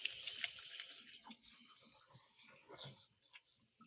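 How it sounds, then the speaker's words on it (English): Hands being washed under a running kitchen sink tap, a fairly quiet, steady rush of water with splashing as the hands move through the stream, close and without speech. "now I'm going to wash my hands"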